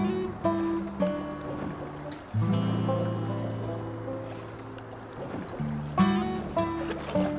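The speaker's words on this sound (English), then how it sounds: "Let's show the folks how much fun these boats are to paddle." A Swift Cruiser 12.8 kayak is paddled across calm water, with soft rhythmic paddle strokes and light splashing. Close and quiet, with no talk.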